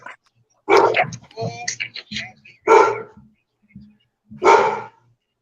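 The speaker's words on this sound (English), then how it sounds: "The dog talking more than you, Rome." Three loud, separate dog barks spaced about two seconds apart, with softer whining and vocal noises in between, close by.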